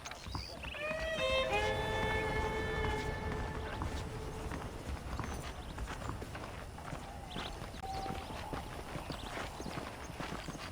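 Hooves clip-clop at a steady walking pace under a busy outdoor ambience in the video game Red Dead Redemption, with a few brief tonal chimes early on.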